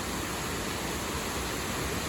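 A steady, even rush of falling water from a waterfall at Lynn Glen, heard from a moderate distance, constant and unbroken with no voices.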